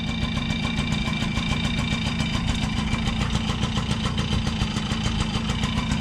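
Yamaha QT50 moped with a 60cc engine running steadily, a close, loud, fast rattling putter that stays constant throughout.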